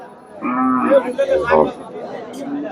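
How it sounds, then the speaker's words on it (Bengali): A cow moos in one long, loud, close call at the Chandaikona cattle market in 2025, with faint chatter in the background. "দর্শক এখানে চমৎকার একটা গাভী বাচ্চা দেখতেছি সার বাচ্চা আর এই যে গাভীটা"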